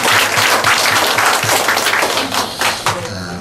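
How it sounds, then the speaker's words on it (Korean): A church congregation claps together in praise. Dense, loud applause with some rhythmic, synchronized claps lasts a few seconds and then starts to fade. "우리 하나님께 박수로 영광합니다."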